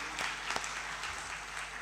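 Audience applause for a village family being honoured, a steady crowd clapping that fills the whole short stretch at moderate level with a few sharper claps standing out.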